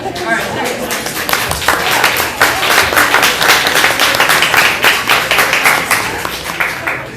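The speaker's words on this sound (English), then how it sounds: "Extra round of applause for make up for her team always losing." An audience at a Nerd Nite talk gives a steady round of applause. The dense clapping runs through the whole clip without pause and fairly close.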